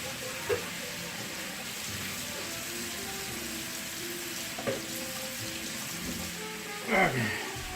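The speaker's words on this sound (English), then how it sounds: "Wash my hands." Tap water runs steadily as hands are washed in a home kitchen, a continuous close splashing hiss with a few clatters and knocks near the end.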